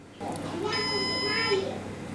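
Asustor Drivestor 2 AS1102T NAS giving a single sustained electronic beep of under a second after restarting, clear and steady over background room noise and a voice.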